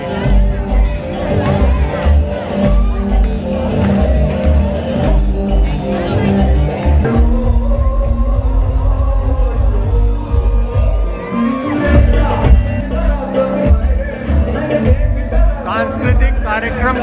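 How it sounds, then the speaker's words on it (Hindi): A dense crowd gathered around an outdoor festival stage at Vasantotsav in Gandhinagar, a continuous loud hubbub of many voices with occasional whoops and shouts rising above it. "आसपास जमा हो गई जो भीड़ है उसे आप देख सकते हैं।"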